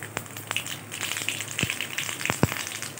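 Spices for tempering a Telugu dal (chillies, crushed shallots, asafoetida) hit hot oil in a pan. The result is a quiet, low sizzle broken by a few sharp crackles and pops, with no talking.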